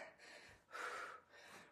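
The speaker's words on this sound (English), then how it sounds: "We're breathing heavy already." Heavy, rapid breathing from people exercising in a workout class doing overhead lunges, faint and steady, with a slightly stronger breath in the middle.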